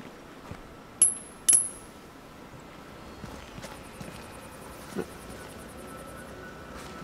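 Two bright metallic coin clinks land about half a second apart in the Hitman video game, ringing briefly over a low, steady ambient background with faint distant sounds afterward.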